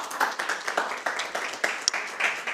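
A small audience claps for a presenter at a startup pitch competition, distinct separate hand claps in an uneven rhythm, close and moderately loud, with no voices over them.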